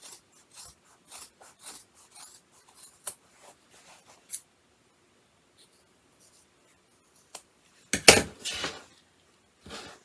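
Scissors snip through thick stitched zipper-bag fabric in a string of short, crisp close-up cuts, followed by a pause and a louder rustling crunch.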